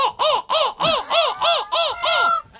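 A person imitates a crow with a rapid series of about eight loud, close, nasal caws in a steady rhythm, each a harsh arched call with brief gaps between.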